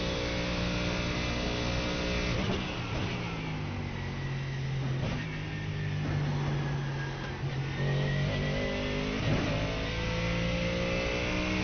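Race car engine at Daytona in the iRacing simulator, a steady droning note under a continuous rumble with a few pitch steps that mark gear changes, no talk.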